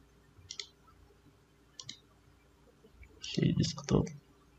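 A computer mouse clicks a few times, short and close, with a man's speech briefly heard over the later clicks.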